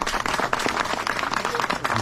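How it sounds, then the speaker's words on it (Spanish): Congregation at a Mass in El Aserradero claps together in dense, steady applause for a couple of seconds, moderately loud and filling the room, with no voices standing out. "Vamos a darle un fuerte aplauso a nuestra Madre María Santísima."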